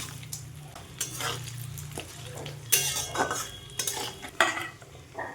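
Cashews and raisins fry in a dal tempering of bay leaf, cardamom, cloves, cinnamon and dried chillies, as a spoon clatters and scrapes against the metal pan over a soft, steady sizzle.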